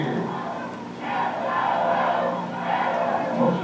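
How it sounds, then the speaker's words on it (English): A crowd of about two hundred anti-Chavez pickets boos and jeers across a street, rolling waves of massed shouting voices that swell and fade together, loud and continuous. "200 anti-Chavez pickets booed and jeered"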